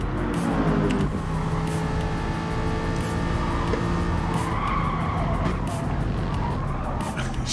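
Race cars lapping the Bathurst circuit in the video game GT Sport, including Aston Martin and Jaguar entries, with a continuous loud engine drone, tire squeal and skidding, and cars passing throughout.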